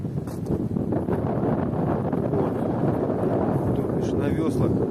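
Strong wind buffets a lake shore at Kachkanar, a steady, loud rush of gusting air roaring against the microphone for the whole stretch, with no pauses or other clear sounds.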